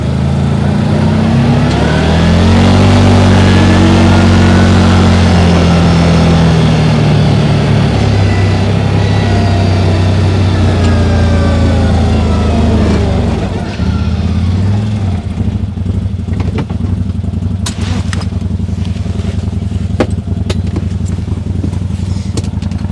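A 2024 CFMoto ZForce 950 Sport Gen 2 side-by-side rated at 85 hp, driven on a trail, its engine loud and close, rising and falling through gears, then easing as gravel clatters under the tires.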